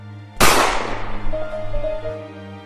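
A gunshot in a Persona 3 parody: one loud, sharp blast that rings out and decays over about a second, with a faint tone lingering afterward.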